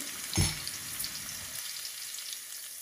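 Garlic and ginger hit hot oil for a jackfruit curry, bursting into a loud sizzle with a brief clatter at the start, then settling into a softer, steady frying hiss.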